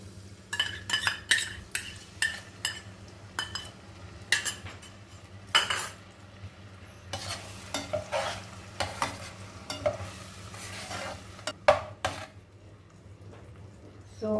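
Ginger garlic paste fries in oil and butter with a faint low sizzle under repeated sharp scrapes and clinks of a spoon stirring against the pan at an uneven pace.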